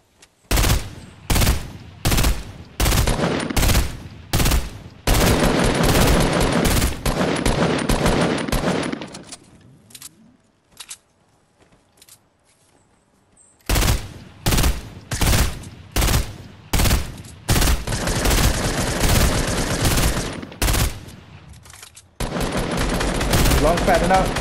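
Rapid bursts of automatic gunfire from a Fortnite match, loud and close, firing in repeated volleys with a pause in the middle before the shooting resumes.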